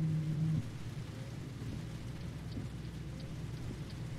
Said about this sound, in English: I love driving with the rain.